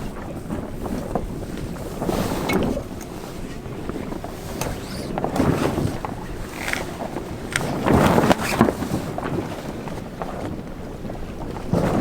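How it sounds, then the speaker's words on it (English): A genoa sail unrolls on a sailboat at anchor, the furling line and flapping canvas giving irregular rustling and luffing bursts under steady wind noise across the whole stretch. "Now we're gonna unroll the genoa"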